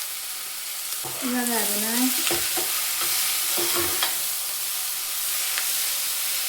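Vegetables frying with onions in a pan for vegetable avalakki: a steady close sizzle and hiss runs throughout, broken by stirring clatters and scrapes of a spoon, with a short spoken phrase near the start.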